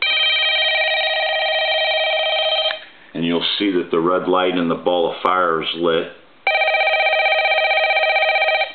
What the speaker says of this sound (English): I'll go ahead and ring the phone,